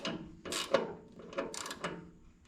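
A socket wrench ratchets under a Bricklin SV1 during suspension assembly, giving a few short clicking, grinding strokes up close and fairly quiet, with no speech.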